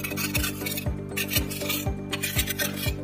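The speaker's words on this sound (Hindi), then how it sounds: "इसे इस तरीके से भी कूट सकते हैं गिलास में डाल के" Dry fruits are pounded inside a glass in a home kitchen, giving steady rhythmic thuds about twice a second with grinding, rasping scrapes between them, close and clear over background music.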